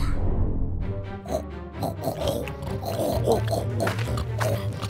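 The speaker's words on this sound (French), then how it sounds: "Bonjour les cochons." Pigs oink and snort in a video game, a busy run of grunts and squeals over a low droning backdrop, fairly close and lively throughout.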